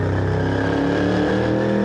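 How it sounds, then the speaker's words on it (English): A Ford Falcon revs hard during a burnout at a car show, the engine roaring loud and steady with a continuous rumble throughout. "Just let the engine die a little bit to recover."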